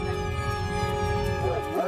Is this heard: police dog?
yes